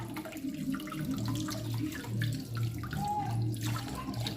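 Tap water runs steadily into a kitchen sink while a catfish is washed under the flow, a continuous splashing stream with small shifts in tone, close by and without talk.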